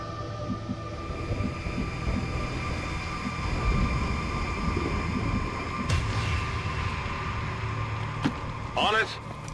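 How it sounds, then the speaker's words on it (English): A train rumbling along in the XCOM 2 strategy video game, a steady loud mechanical roar with squeals and clanks, heard under speech. "They keep these trains running around the clock"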